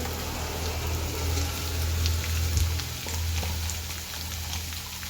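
Karela sabzi sizzles steadily in a pan as crushed peanuts go in, a continuous close frying hiss with faint crackles and a low stove hum underneath.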